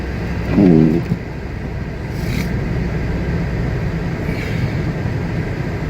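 A car drives out of town on snowy roads, its engine and tyres making a steady low rumble with road noise, continuous and close from inside the vehicle, with a brief louder thump near the start.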